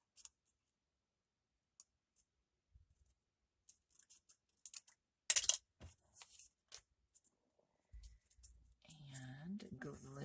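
Scissors snipping paper for decorated paperclips, a few sparse close clicks and a short burst of cutting, followed by a voice talking at the end.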